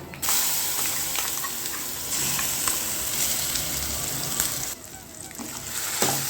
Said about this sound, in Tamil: இதை இந்த மாங்காவோட பச்சை வாசனை போகிற அளவுக்கு இந்த எண்ணெயிலே நல்லா வதக்கி விட்டுக்கலாம்